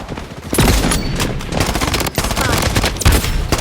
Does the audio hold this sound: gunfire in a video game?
yes